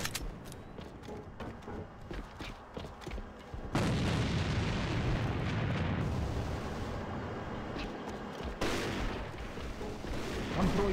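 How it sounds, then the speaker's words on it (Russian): Video-game grenade blasts in a combat match: scattered crackling shots give way to a sudden loud explosive roar that rumbles for several seconds, followed by a second burst of heavy, noisy blast sound. "Бросаю гранату."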